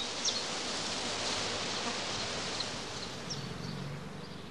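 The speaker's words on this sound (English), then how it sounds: "If a prime swarm is not prevented from flying, it first settles close by, preferably under overhanging branches" A honeybee prime swarm settling close to a skep, a dense steady hum of many bees filling the air, soft and continuous with faint rustling, no voices.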